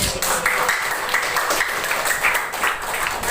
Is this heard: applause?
yes